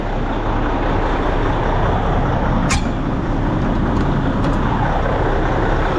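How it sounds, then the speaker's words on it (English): A truck idles close by with a steady, dense rumble while building air pressure, with a brief sharp hiss of air standing out partway through. "Everything's sitting here building air pressure."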